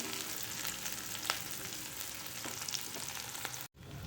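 Onions and curry leaves frying in hot oil in a pan, a steady crackling sizzle with occasional sharp pops and a brief stir, no talking.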